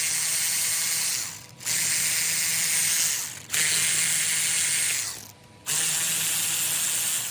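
A ratcheting tool breaks loose the clutch cover bolts on a Yamaha TTR 125 dirt bike, giving loud, continuous buzzing ratchet runs in three long bursts with brief pauses between them.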